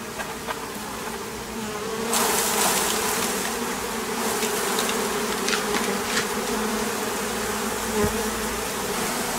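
Honey bees in an observation hive buzz in a dense, steady drone that grows louder and more agitated as the frame is shaken, close to the microphone and with no talking.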